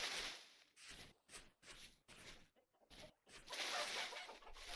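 Chickens clucking in the Vintage Story video game, a busy run of short, broadband bursts separated by brief gaps, fairly close and steady, with no one speaking over them.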